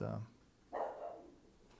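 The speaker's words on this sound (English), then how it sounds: "My dog." A dog gives two short barks indoors, the first at the very start and the second a moment later, with a quieter tail trailing off between them.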